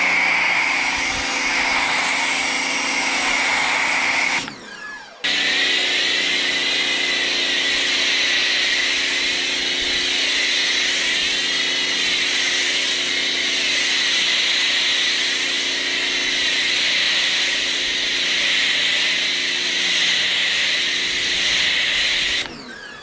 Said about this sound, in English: Let me just quickly jet wash this off and I'll do the whole car